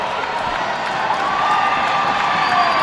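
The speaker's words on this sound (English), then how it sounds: "And now the crowd hooping and hollering now." A basketball crowd at a Lawrence Central versus East Chicago high school game cheers and hollers loudly in a dense, continuous roar of many voices during a tight finish.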